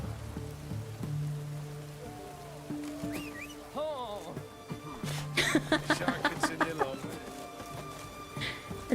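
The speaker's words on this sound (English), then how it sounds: "It's raining." Rainfall in the video game The Witcher 3: Wild Hunt, a steady soft patter running underneath voices and bursts of laughter.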